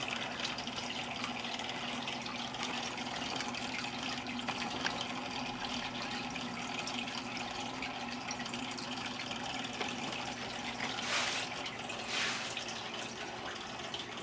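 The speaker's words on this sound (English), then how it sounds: "So we'll do a water change here" Water running steadily during an aquarium water change in a home fish room, a continuous close splashing and trickling wash of flowing water throughout, with no talking.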